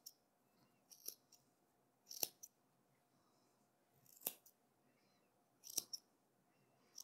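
Scissors snip through wool felting fibre in about five short, crisp cuts spaced a second or two apart, close and quiet in an otherwise silent room.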